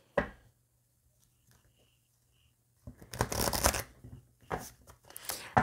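Oracle cards are shuffled and cut by hand, a short riffle at the start, then after a quiet stretch a dense, close flurry of papery shuffling and slaps.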